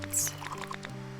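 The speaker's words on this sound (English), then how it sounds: "let's water our goose a little bit." Watering a goose in the video game Tingus Goose gives soft liquid drips and a short pouring trickle, faint over steady music tones.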